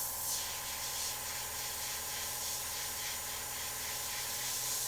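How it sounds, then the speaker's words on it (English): A Meeden dual-action airbrush with a 0.5mm needle sprays in a steady, close hiss of air and atomized paint, holding even and continuous from start to finish. "because it's a dual action airbrush, the motion of pushing down for air and then pushing back for paint"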